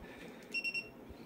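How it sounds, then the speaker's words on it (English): Continuity buzzer of a HIOKI DT4261 digital multimeter, three quick high-pitched beeps in a row, faint and close. "You can turn it off, but then a continuity buzzer will also be silenced."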